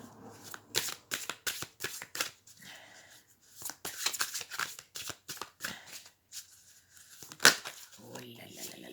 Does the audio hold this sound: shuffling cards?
yes